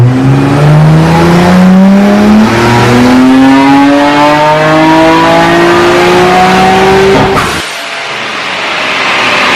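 An all-wheel-drive Nissan R32 GTR race car with a six-speed sequential gearbox and about 600 wheel horsepower accelerates hard, its engine note climbing loudly and close for several seconds before cutting off abruptly, then falling back to a lower drone.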